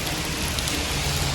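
Heavy rain pours steadily during a cloudy midday halt on a mountain bike ride in landslide-hit Uttarakhand, a dense, unbroken hiss of drops drumming on surfaces close by.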